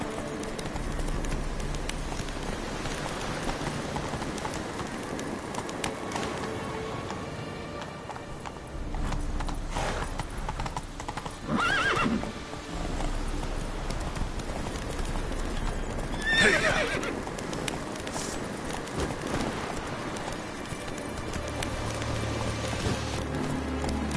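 A horse gallops in The Witcher 3 video game, its steady clip-clop hoofbeats running continuously and close up with an occasional whinny, over ambient game sounds and no talk.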